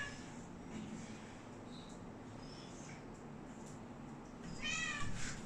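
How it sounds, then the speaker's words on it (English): A house cat meows softly in a quiet room, a couple of faint high calls near the end over a low steady background hum. "Oh, my cat's meowing."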